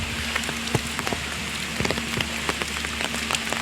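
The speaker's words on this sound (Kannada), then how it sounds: "ಜೋರು ಮಳೆ" Heavy rain pours down steadily at the Bisle Ghat viewpoint near Sakleshpur, a dense continuous hiss with scattered sharper drop impacts close by, no voices.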